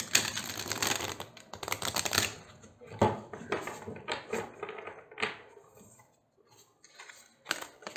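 Tarot cards are shuffled by hand in quick riffling, clattering bursts that come in and go out, with brief quiet gaps and no talking.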